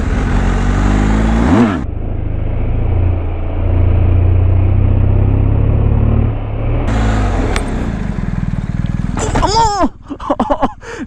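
A superbike engine revs loud and close during a stoppie, dropping to a steady lower drone mid-stretch, then rising again with sharp rev sweeps and brief stutters toward the end.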